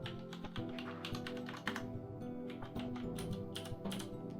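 Mechanical key switches on a Mega65 computer keyboard, caps lock and shift lock among them, clack in a steady run of close, crisp presses with a few sharper taps standing out.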